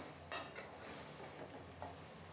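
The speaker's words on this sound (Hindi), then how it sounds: "मटन में अब हम डालेंगे प्याज, फ्राई किया हुआ, ताकि ये अच्छी तरह इसमें मिक्स हो जाए।" Fried onions being stirred into mutton in a pot for a badami korma, a quiet low sizzle with a sharp scrape near the start and another soft stir later.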